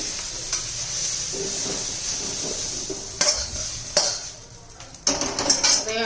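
Sautéed mixed vegetables scraped and lifted from a frying pan with a utensil, a steady oily sizzle underneath with several sharp metallic clinks and scrapes against the pan toward the end.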